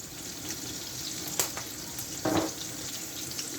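Masala spices go into a hot dal tarka: garam masala, chilies, turmeric and salt. A steady sizzling hiss runs throughout, with a short clatter and a brief louder burst of frying near the middle, and no talk.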